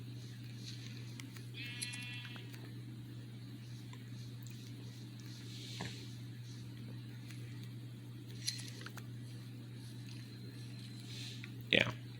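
Sheep in Minecraft Bedrock Edition give a few faint, short bleats spread across a steady low background hum, with a player talking quietly at times.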